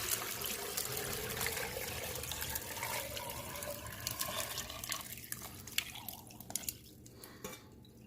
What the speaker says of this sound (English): I fill the fuente or the glass with water.